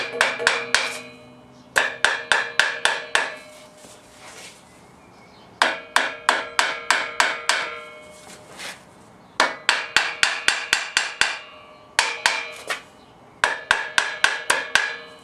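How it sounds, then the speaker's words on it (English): A hammer taps on the aluminium-finned cylinder heads of a Porsche 911 RS backdate engine during assembly, landing in quick bursts of five to eight sharp, close strikes separated by short pauses. "You've got to be super careful not to hit any of those aluminium fins with this hammer."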